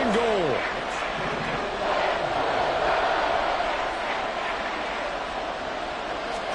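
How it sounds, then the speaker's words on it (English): Stadium crowd roaring steadily at an NFL football game, a loud continuous wash of cheering that holds through the whole stretch while a commentator calls the play over it. "This crowd doing all they can."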